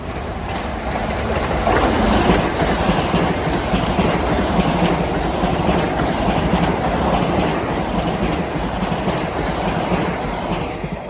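A commuter express train rumbles past on the triple-track line at Mineola station during the morning rush. The loud, steady roar of wheels on rail fills the whole clip, with faint rhythmic clicks.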